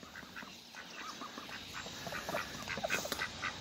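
Ducks quack in a string of short, nasal calls, scattered and fairly close, growing busier and louder toward the end over a faint outdoor hush.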